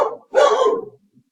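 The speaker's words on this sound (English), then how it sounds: "Dog's barking for no reason." A dog barks indoors, two quick nearby barks, a brief one followed by a longer louder one, then fading to quiet.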